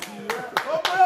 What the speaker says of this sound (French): On peut l'applaudir, là!